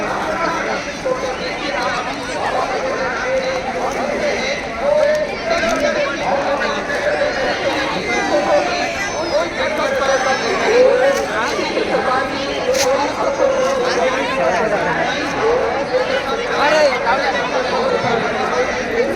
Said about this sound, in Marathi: कथा म्हणजे पूर्ण फुल गर्दी मित्रांनो बघू शकतात पूर्ण पंडाल भरलेला आहे